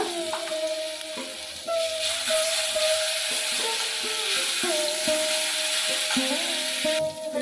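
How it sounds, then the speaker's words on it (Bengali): Panch phoron, dried chilli, bay leaf and garlic paste fry in hot oil in a kitchen, a steady bright sizzle with a spoon stirring and scraping now and then. "পাঁচ ফোড়ন শুকনো লঙ্কা তেজপাতা ফোড়নটা ভালো করে আমি ভেজে নেব এক চামচ রসুন বাটা"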